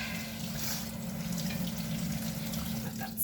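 Tap water runs steadily over barley in a cheesecloth-lined strainer, a continuous close splashing rush with no talk over it.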